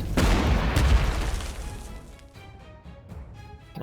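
Explosions and shots in the Panzer Corps 2 strategy war game, Middle East scenario: a loud booming blast at the start decays over the first two seconds into a low rumble, with quieter scattered pops afterward.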